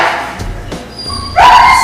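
A dog lets out a couple of short, sharp barks and yips during an obedience training session, close and loud, ending in a higher whine-like sound.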